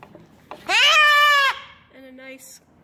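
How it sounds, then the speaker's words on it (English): A young Boer goat kid bleats loudly once in a long, wavering cry during disbudding with a hot iron, followed by a shorter, quieter bleat, all close by. "This is a boer goat"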